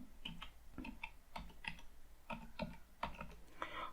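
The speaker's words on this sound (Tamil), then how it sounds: "ஸோ இப்போ என்னோடய ஃபோன் நம்பரை நான் வந்து டைப் பண்ணிவிட்டேன்." Keys clatter on a computer keyboard as a phone number is typed, a close series of quick, irregular clicks in short bursts.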